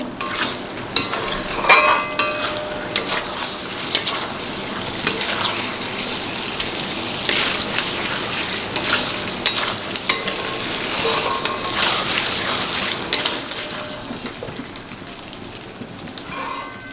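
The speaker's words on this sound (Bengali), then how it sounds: "কোফতাগুলো দিয়েও একটু কষাতে হবে 1 মিনিটের মতো।" Chicken koftas sauté in a pan for a minute with a steady, close sizzle and crackle, broken by occasional scraping stirs, with no voices.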